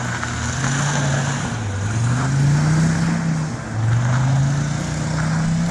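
Audi 200 Quattro Turbo five-cylinder with a leaking exhaust manifold, idling and blipping in a steady drone, its pitch swinging up and down in slow waves, with a faint ticking hiss over the exhaust note.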